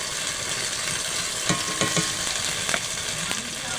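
Cumin paste and ginger-garlic paste frying in hot oil with already-fried tomatoes for a hand-ground-spice mutton curry, a steady loud close sizzle with a few sharp stirring clicks.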